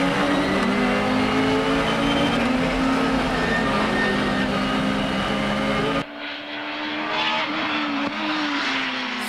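A 280 hp naturally aspirated Honda Civic and a 400 hp turbo Nissan Silvia race at Ebisu, their engines screaming loud and close and rising in pitch through gear changes, with the sound cutting to a quieter, more distant engine note partway through.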